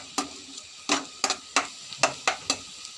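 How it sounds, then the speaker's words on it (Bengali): Onions browning in a pan, stirred in a series of sharp scraping strokes that come at an uneven rhythm over a faint sizzle, close and clear with no talk. "পেঁয়াজটা আমার কিন্তু লাল লাল করে ভাজা হয়ে গেছে।"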